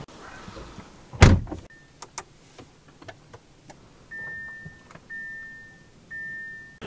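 Getting into a 2023 Audi RS e-tron GT: a sharp, close door thump followed by light interior clicks and a few short electronic chimes or motor whirs, with no talking.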